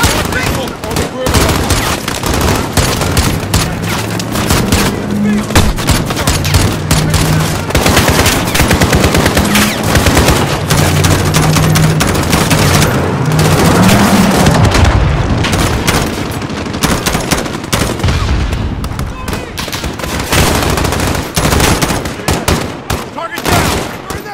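Dense, sustained gunfire through a firefight at an embassy in Call of Duty: Modern Warfare, rapid automatic bursts and heavy booms rolling continuously for the whole stretch, loud and close, with shouted voices buried in the chaos.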